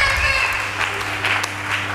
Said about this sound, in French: Acclamons très fort pour le roi.